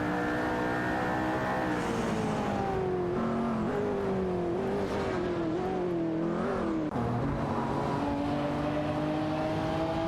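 Engines of race cars, among them a Ferrari, roar together in a racing video game, several rising and falling tones overlapping at steady, loud volume throughout, with no voices.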